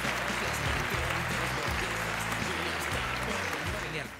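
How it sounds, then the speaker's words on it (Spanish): An audience at a close-up magic show applauds a volunteer, a steady burst of clapping that runs throughout. "Un aplauso para Noemí"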